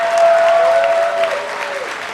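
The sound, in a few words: audience clapping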